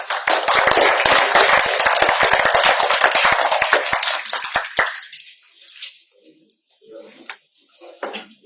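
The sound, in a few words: audience applause at a book presentation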